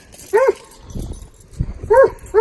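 A dog barks in short, sharp bursts, three barks spaced irregularly with quiet rustling and faint footsteps between them, fairly close.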